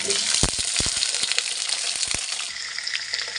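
Onion and potato pieces dropped into hot oil with a bay leaf, giving a loud burst of sizzling and frying crackle with a few sharp clatters of stirring, then settling into a steadier hiss.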